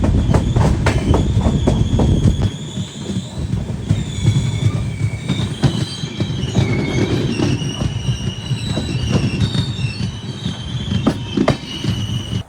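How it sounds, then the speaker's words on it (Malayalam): Poorna Express pulling into Karwar station in dry weather after rain: loud, close rail rumble with rhythmic clatter, wheel squeal and bright metallic screeches throughout, no talking. "നമ്മുടെ പൂർണ്ണ അങ്ങനെ വെറും അരമണിക്കൂർ ഡിലേയോട് കൂടി കാർവാർ സ്റ്റേഷനിലേക്ക് തന്നെ കയറാൻ പോവാണ്"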